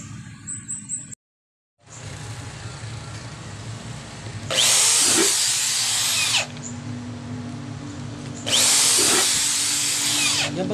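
A power drill bores a hole through a 1 3/4 by 4 inch aluminum rectangular tube for a door knob, giving two loud bursts of whining, grinding drilling separated by a steadier motor hum and a brief silence early on.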